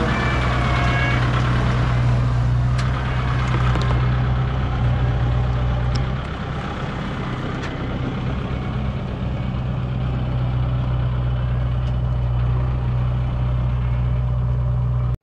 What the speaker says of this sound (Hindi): बिल्कुल साइलेंट चल रहा है, बिल्कुल नॉर्मल रेस के अंदर चल रहा है ट्रैक्टर